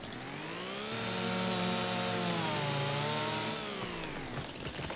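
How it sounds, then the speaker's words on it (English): A chainsaw in Farming Simulator 25 revs up and holds a loud, buzzing engine whine for a few seconds, then winds back down, with no talking. "But we own a chainsaw."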